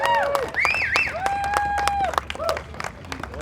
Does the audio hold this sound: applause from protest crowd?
yes